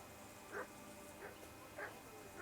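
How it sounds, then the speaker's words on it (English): A dog in the medieval game Kingdom Come: Deliverance II gives four short, faint whimpering yips at a steady pace over a low ambient hum. "Do something with that mutt, Henry. It's doing my head in."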